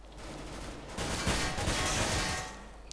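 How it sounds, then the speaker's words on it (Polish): Automatic AK rifle fire in CS:GO rattles in a dense, sustained burst at moderate distance, swelling after the first second and fading near the end, with no voices. "Strzela tam jakiegoś kałacha"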